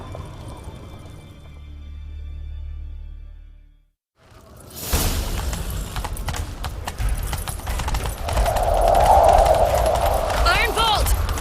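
A horse gallops in The Witcher 3 video game: after a quiet opening and a brief silence, steady, loud hoofbeats start and keep going with rushing motion noise until the end. There is no speech.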